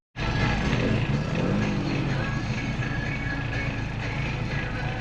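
Classic Mini engines at a club run fire up together, a sudden burst of revving exhaust that settles into a loud, continuous multi-car idle and rumble close by, with no voices.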